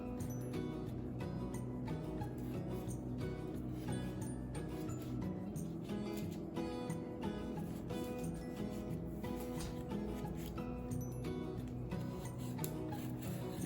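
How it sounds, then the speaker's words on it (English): A spatula loosening a baked cake from the pan edges: quiet, repeated scraping and rubbing strokes in an irregular rhythm, close and soft throughout. "I'm just going to loosen up the sides with this spatula here just to make sure that we're broken."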